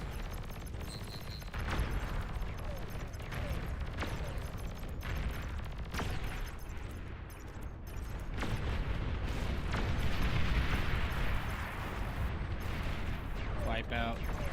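An enemy commander unit explodes in the real-time strategy game Beyond All Reason. Deep booms and artillery-like blasts repeat amid continuous battle noise, with voices talking over it.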